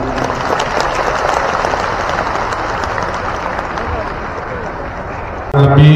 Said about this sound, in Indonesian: Jadi tepuk tangan untuk ibu-ibu.